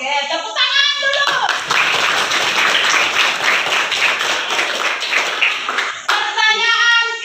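Children in a classroom break into a burst of dense, loud applause lasting several seconds, with voices heard just before and just after the clapping.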